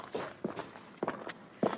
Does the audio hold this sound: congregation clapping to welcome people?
no